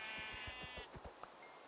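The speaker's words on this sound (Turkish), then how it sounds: "Aha Ha, koyun." A Minecraft sheep bleats in a wavering, buzzy call, with soft rhythmic thumps beneath and a faint electronic tone near the end.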